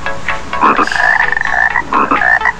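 Frogs croak in repeated bursts from a video shown on a classroom screen during a Grade 3 lesson on frog metamorphosis, loud and close, with no talking over them.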